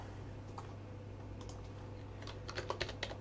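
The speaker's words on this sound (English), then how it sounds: "Keyboard." Computer keyboard typing during a Linux install, close and fairly quiet: a few scattered key clicks, then a quicker burst of keystrokes near the end over low background hum.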